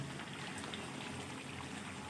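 Water poured into a pot of beef and basmati rice biryani, a steady close splashing and bubbling wash that fills the whole moment without talk.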